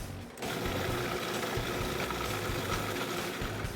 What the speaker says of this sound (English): You can see the machine move how much torque it has. It has a 1 horsepower motor.